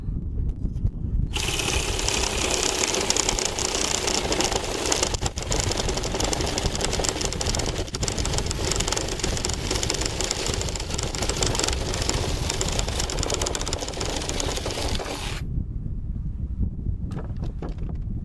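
A battery-powered Sawzall reciprocating saw cuts off a sledgehammer handle. A loud, harsh buzzing runs for about fourteen seconds, then stops abruptly, with no talking.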